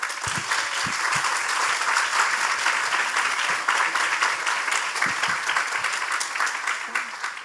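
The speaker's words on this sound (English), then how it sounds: "So I think everyone should applaud themselves." Dense applause from a leadership dialogue audience, a steady wash of many hands clapping at moderate volume with scattered louder claps and no break.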